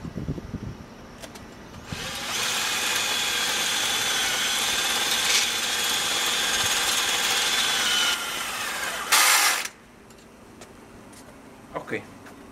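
Power drill boring into a wooden post while fitting a LiteFENCE panel, a steady high whine that runs for about six seconds, drops, then returns in a short louder burst. Faint knocks and handling noises follow, with a voice nearby.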